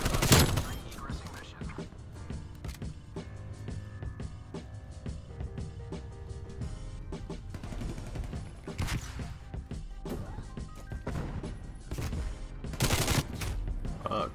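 Rapid gunfire bursts and single shots from a Call of Duty Cold War league match fill the scene, loud and dense throughout, with thuds and a few crashes mixed in.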